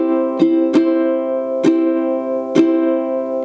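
Ukulele strummed in a pattern missing its second up strum: a quick pair of strums followed by two spaced single strums, chords sustaining in between, close, bright and unaccompanied.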